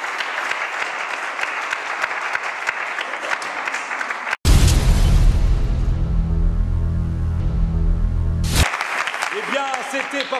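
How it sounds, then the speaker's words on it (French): A live audience applauds in a hall at a Congolese music event, the clapping breaking in abruptly as a dense roar over music-like content and lasting about four seconds before cutting off, with loud talk before and after. "Alors, applaudissez pour vous-même."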